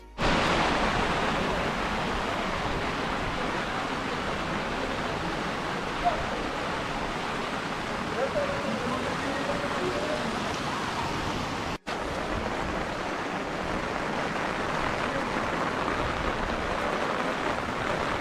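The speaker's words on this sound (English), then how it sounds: "Heavy rains." Heavy rain pours near a temple in Chikamagalur, India, as a dense, steady hiss that runs without a break, close and loud.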